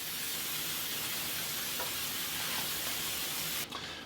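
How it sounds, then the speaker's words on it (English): A continuous cooking-spray aerosol hiss onto a baking pan, close and steady for a few seconds, cutting off abruptly near the end. "I'm going to spray this pan so these cookies don't stick."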